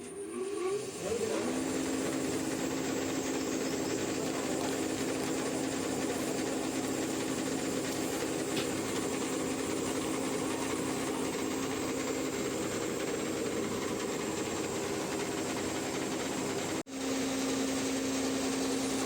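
A rewound Suguna 2HP induction monoblock motor spins up and runs with a loud, steady electric hum and whine, briefly cutting out near the end before resuming, with no voices.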